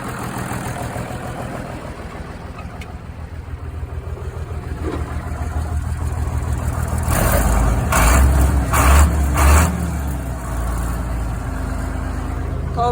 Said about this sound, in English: so we'll try and start this tractor